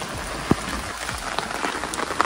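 Heavy rain falls in Shimla, Himachal Pradesh, a steady hiss of rainfall with scattered sharper drops hitting nearby surfaces, fairly quiet and even, with no talking.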